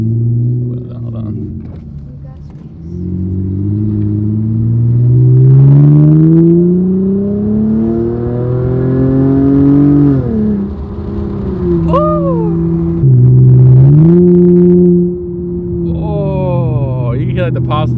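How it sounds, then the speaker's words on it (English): A car engine revs up and down repeatedly, its pitch rising and falling in long sweeps, loud and close. "I'm going to rev the engine from inside the car"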